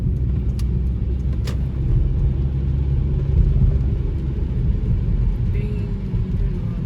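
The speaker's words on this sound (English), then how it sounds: "Dang, there's a lot of traffic." A car drives through heavy road traffic in Bakersfield, California on a rainy day, a loud steady low rumble of engine and tyres heard from inside the vehicle with a slight surge of engine noise midway.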